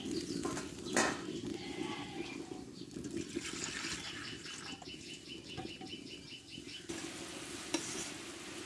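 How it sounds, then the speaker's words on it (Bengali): Thin fish curry broth for rohu with ridge gourd bubbles in a pot after the water goes into the cooked-down spices, a steady close simmering rumble with soft pops and no one talking. "দেখো ঝোলটা ফুটে উঠেছে"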